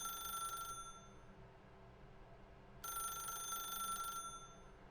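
A telephone rings in the video game The Stanley Parable. Two bright electronic bursts, each more than a second long, are separated by a quiet gap. The sound is clear and alone, with no talk.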